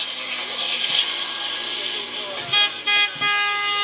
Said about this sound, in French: Le klaxon, voiture de soutien.